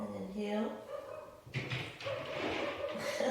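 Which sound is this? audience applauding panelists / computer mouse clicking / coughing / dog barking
dog barking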